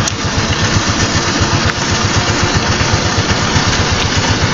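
A motorcycle engine runs steadily close by on the Bambamarca–Cajamarca road in light rain, a loud, rhythmic low thrum with constant vibration and no talking.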